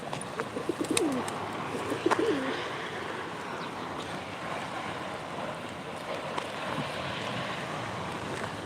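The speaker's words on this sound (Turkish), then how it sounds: "Güzel güzel kuşlar var." Pigeons at a live pigeon auction in Ankara give a few soft coos early on against a steady murmuring background, faint and somewhat distant.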